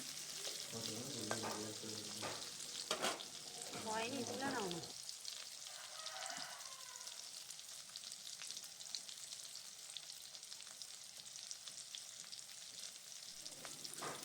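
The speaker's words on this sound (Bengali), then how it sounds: "তারপর চিংড়ি মাছটা দিয়ে লাল লাল করে ভেজে নেওয়া হচ্ছে" Prawns fry in hot oil in a wok with a continuous, even sizzle and crackle, with some stirring and a voice in the first few seconds, then the frying goes on alone.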